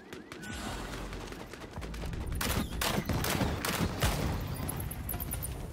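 Bloodhunt gunfire, a loud sustained fusillade that swells in the middle and runs on as a dense rattle of overlapping shots and impacts.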